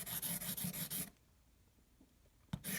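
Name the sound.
sharpening compass lead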